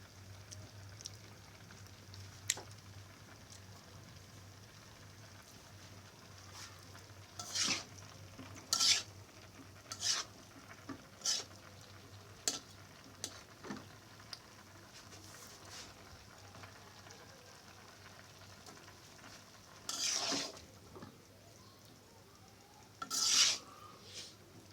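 Vegetables being stirred with spices in a pan for biryani at home, with a spoon clattering in bursts against the metal and a faint sizzle beneath a steady low hum.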